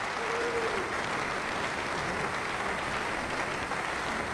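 Home crowd applauding at a 2007 World Masters bowls match, a sustained broad patter of many hands that stays loud and steady throughout, with no voices over it.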